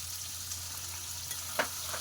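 Chicken and potato pieces sautéing in spice paste for a rural Bengali country-style chicken curry, a quiet, steady sizzle with a few faint stirring scrapes and no talking.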